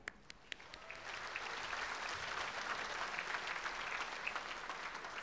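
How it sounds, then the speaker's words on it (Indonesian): Quiet, steady applause from an audience at a 1995 awards ceremony, rising after a moment and holding as a continuous patter of many hands, heard faint and distant. "Tepukkan."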